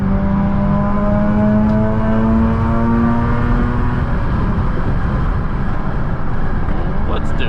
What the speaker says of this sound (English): resonator delete and a muffler delete if I ever heard one.